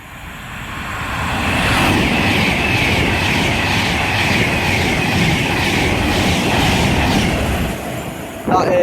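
A Virgin Trains Pendolino and an Arriva Trains Wales train pass on the West Coast Main Line at Hartford, giving a loud, close, sustained rushing roar with rail rumble that builds, holds for several seconds, then eases.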